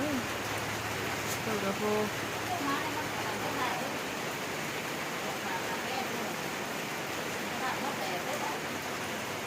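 Heavy rain pours through a bamboo forest as a steady, dense hiss, while a person speaks briefly beneath the downpour.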